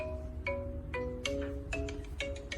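A mobile phone rings nearby in a repeating electronic melody, several tone bursts evenly spaced over a low background hum, with no voices.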